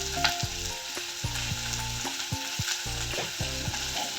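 Onions fry with salt in a pan, a strong continuous sizzle with stirring, close and steady, set against background music.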